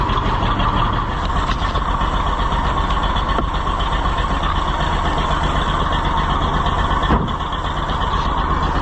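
A farm vehicle's engine idles after a cold start in freezing weather, a loud, steady, close rumble that runs unbroken with no talk.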